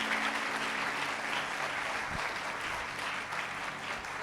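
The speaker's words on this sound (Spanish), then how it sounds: "Un aplauso para ellos." A church congregation applauds during a Spanish-language sermon, a steady wash of clapping holding at an even level throughout, with no voice rising above it.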